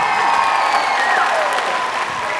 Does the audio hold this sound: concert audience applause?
yes